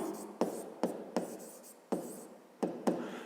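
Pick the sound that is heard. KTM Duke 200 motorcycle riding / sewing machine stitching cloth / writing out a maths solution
writing out a maths solution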